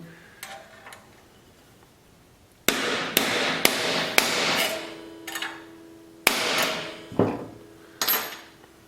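A hammer sets a brass eyelet rivet on a mandrel in an EH Scott Philharmonic radio chassis, striking with sharp metallic taps, first a few faint ones, then a run of loud close blows, some ringing briefly.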